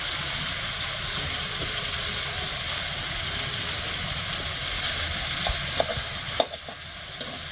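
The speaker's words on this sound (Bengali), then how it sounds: "বাটা মশলাটা দিয়ে দেবো।" Ground spice paste fries in a hot pan for a potato and pointed gourd curry, giving a steady, close sizzling hiss with a few scrapes and clinks near the end as it is stirred.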